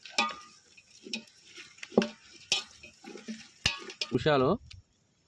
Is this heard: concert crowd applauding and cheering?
no